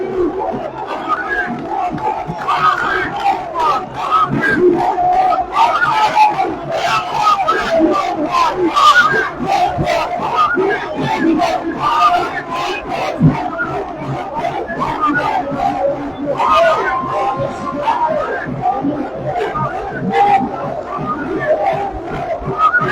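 Party activists at an outdoor political rally for Mohiuddin chant slogans in a loud, dense crowd, with voices rising and falling in steady waves.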